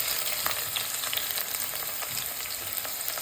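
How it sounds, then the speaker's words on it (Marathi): Chopped onions and curry leaves frying in hot oil in a pan for mutton sukka masala, a steady close crackling sizzle with faint stirring scrapes throughout. "आता आपण 2 मोठे चिरलेले कांदे ॲड करतोय"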